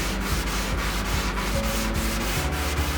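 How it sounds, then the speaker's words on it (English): Hand polishing and burnishing of an ash veneer drum shell: a steady, close rubbing hiss with a rhythmic back-and-forth pulse of strokes, continuous and alone. "Kind of hear it polishing, burnishing"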